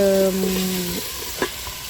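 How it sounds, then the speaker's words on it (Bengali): Beef frying in oil with onion for a beef and bottle gourd dish, a close, loud sizzle with stirring that follows a brief tonal hum at the start. "তেল পেঁয়াজটা ভেজে মাংসটা চড়িয়েছি"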